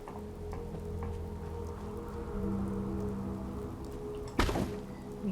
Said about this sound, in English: Gosh, that rain is lovely.